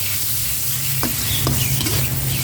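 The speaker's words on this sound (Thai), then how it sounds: "ผัดหมูกับพริกแกงให้เข้ากันครับ" Pork stir-fried with red curry paste in a hot pan, sizzling and crackling steadily, with a few scraping strokes of the spatula, close up and alone.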